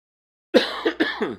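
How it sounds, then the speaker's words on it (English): A close, loud, rough cough in several quick bursts, breaking out suddenly after a moment of silence. "It's this damn cough."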